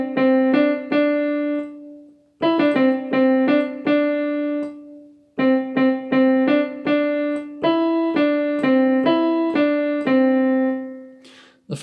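Solo piano plays a melody as clear single notes in a steady phrase with short pauses between groups, close and moderately loud, with no voice.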